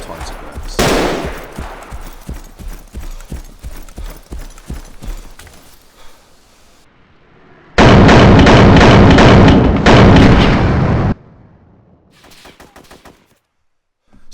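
Gunfire in DayZ, an AKM rifle trading fire with a sniper: rapid bursts and single cracks crowd the opening seconds, then a long, very loud sustained burst follows, with scattered quieter shots trailing off near the end.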